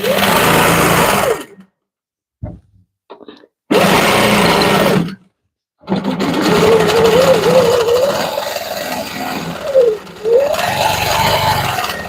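Sewing machine doing free-motion quilting along a seam line, running close in loud bursts that stop for short silent gaps, then a long steady stretch with shifting pitch as the stitching speed changes.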